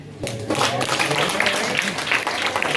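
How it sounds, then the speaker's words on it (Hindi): Sustained applause from a crowd at a bhajan singing competition, a dense wash of clapping that starts abruptly and continues evenly at fairly close range. "ये जो आपकी तालियां है ना, ये रुकनी नहीं चाहिए"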